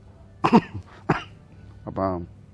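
Two sharp coughs close together, then a short voiced throat sound, all near and fairly loud with no talking.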